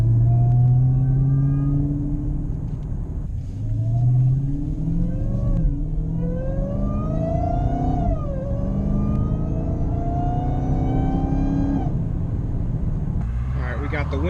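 A car fitted with a K&N Typhoon intake runs at low RPM in higher gears, its engine rumbling steadily while a rising and falling intake whine sweeps through the cabin with the revs.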